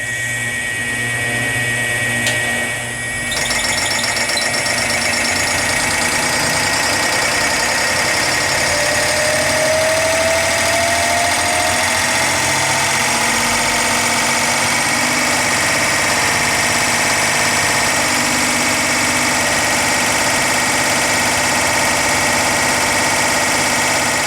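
A Kubota diesel engine fitted with full-cut delivery valves on its Zexel injection pump runs steadily at a fast idle. The drone is loud and continuous, with a dense mechanical hum and vibration.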